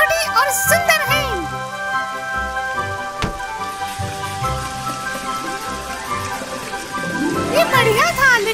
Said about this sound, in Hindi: ये जादुई बारिश है, हम पानी में भी सांस ले पाएंगे।